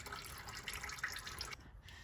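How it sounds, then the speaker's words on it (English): Oil draining from a punctured oil filter on a Nissan 370Z, a quiet, steady liquid trickle that cuts off abruptly near the end, close and with no speech. "you can poke a hole in the oil filter, just like that, and drain some of the oil out"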